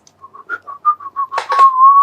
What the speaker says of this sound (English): I could whistle a bit, right?